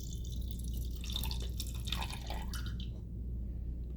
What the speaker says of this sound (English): we're going to pour this water in the can and take an initial temperature reading